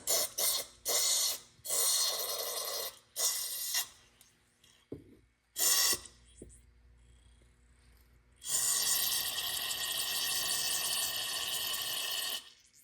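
Cleaner sprayed through a Ford 2-barrel carburetor in short hissing bursts, then one long continuous spray, close and loud, with brief quiet gaps and small knocks between bursts.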